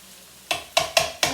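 Stuffing sautéed in a pan at home, stirred in four quick scraping bursts that stand out against a quiet kitchen background, close and moderately loud.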